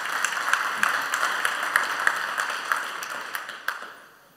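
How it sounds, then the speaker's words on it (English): A conference audience gives a speaker a round of applause, many hands clapping at a moderate distance, steady at first and then fading out over a few seconds. "First, let's give you an applause."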